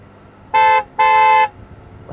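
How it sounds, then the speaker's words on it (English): Horn of a 2023 BMW K1600GTL touring motorcycle, two loud, clear tonal honks in quick succession, the first short and the second longer, standing out plainly over faint road and engine noise. "the horn is not your typical BMW horn"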